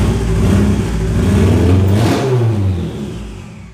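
A Honda CRX with a turbocharged D16Y8 engine revs loudly up and back down in one sustained sweep at close range, then fades toward a quieter idle.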